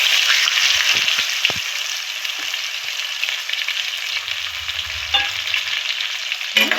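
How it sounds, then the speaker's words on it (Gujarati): Cumin, asafoetida, dried red chillies, cloves, cinnamon and curry leaves crackle and sizzle loudly in hot oil for a vaghar tempering, a dense continuous fry with a few clinks of a stirring spoon. "હવે આપણે વઘાર કરી લઈશું"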